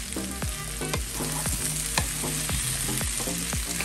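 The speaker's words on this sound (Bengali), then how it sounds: "এবার খুব ভালো করে নেড়ে চেড়ে আরও 3-4 মিনিট সময় ধরে রান্না করে নেব" Vegetables with ground spices frying and being stirred in a pan over low to medium heat, a steady sizzle broken by regular scraping strokes of the spoon, close and continuous with no talking.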